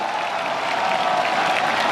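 A huge racecourse crowd at Sha Tin roars and cheers for jockey Vincent Ho after a Hong Kong Mile race, a dense, sustained wall of cheering and applause held steady throughout.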